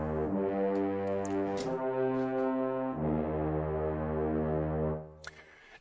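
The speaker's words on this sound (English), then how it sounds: "It's basically a French horn at the bottom, which is blatty and low" A low, blatty French horn holds long sustained notes in a virtual composition, changing pitch a couple of times with brief breaks, loud and resonant before trailing off near the end, with no talking.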